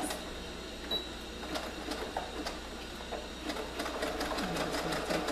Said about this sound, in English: So I'm just going to put my sewing machine on my zigzag setting.